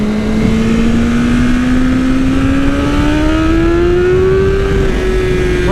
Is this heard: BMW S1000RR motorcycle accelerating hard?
yes